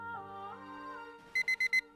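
An alarm clock goes off as a radio show sound effect, four quick bright electronic rings in a rapid burst after a soft musical tone, loud and close.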